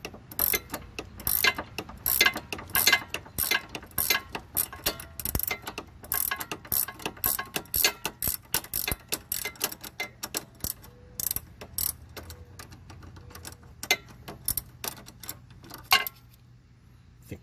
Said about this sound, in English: I can actually bend the ratchet up a little higher or the breaker bar.